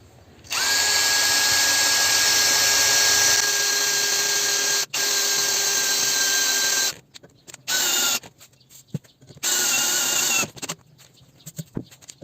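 A lubricated size-4 thread-forming drill bit bores and taps a hole in metal: a loud, high power-tool whine runs for several seconds, then comes in shorter bursts separated by brief pauses, with no voices.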